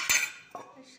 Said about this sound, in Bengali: এবার একটুখানি চামচ দিয়ে এভাবে একটু সাজিয়ে নিলাম।